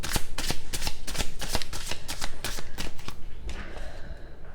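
A deck of cards riffled and bridged repeatedly, a run of sharp rapid flutters and slaps in quick rhythm, close and fairly loud, easing into quieter handling at the end.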